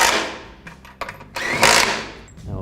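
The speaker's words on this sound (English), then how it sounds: "I'll just tighten these up with the 15mm socket and an electric gun." An electric impact gun with a 15mm socket tightens bolts on the front axle of a 2015 GMC double-cab pickup. Several short, close, loud whirring bursts are separated by brief pauses.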